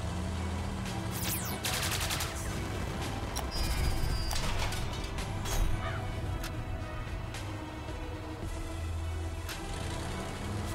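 Gunfire from units in the strategy video game Codex of Victory, a cluster of sharp overlapping shot bursts early on amid busy game effects and a steady background score, then trailing off.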